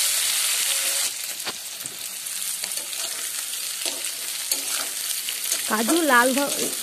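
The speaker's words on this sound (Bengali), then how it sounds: "কাজু ও কিশমিশ ভালোভাবে ভেজে নেব।" Cashews and raisins fry in oil in a pan for veg fried rice, giving a steady sizzle with occasional stirring scrapes; a short voice-like tone briefly rises near the end.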